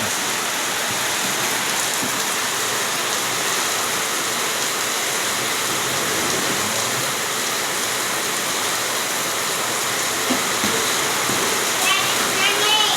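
Steady rain falling outside a house, a dense, even hiss of drops and splatter that runs the whole time with no breaks, fairly loud and close.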